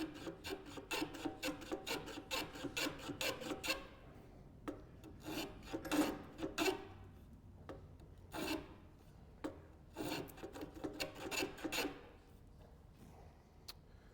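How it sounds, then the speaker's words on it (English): A woodworking blade is sharpened with a hand file: quick rhythmic rasping strokes run steadily at first, then break into separate scrapes with pauses between them. "gotta sharpen my blade a little well"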